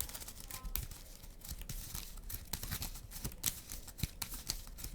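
A deck of Marvel Champions game cards is shuffled, giving quiet papery riffles, snaps and rustles in irregular bursts at close range.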